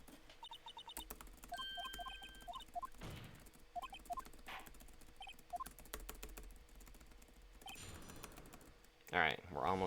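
Computer keyboard keys tapped repeatedly, likely the enter key, during a Phoenix Wright: Ace Attorney game stream, with game beeps and a voice in between, plus a louder burst near the end.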